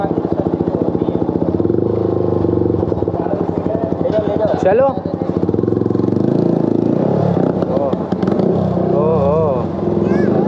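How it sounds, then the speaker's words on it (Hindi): A Yamaha R15 V4 motorcycle runs steadily at a service centre, its engine a continuous close rumble throughout while people talk over it. "तो भाई बाइक अंदर चली गई सर्विस के लिए।"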